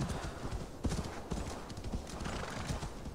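Steady hoofbeats of a galloping horse in Assassin's Creed Valhalla pound in a fast rhythm, close and continuous, with no talking.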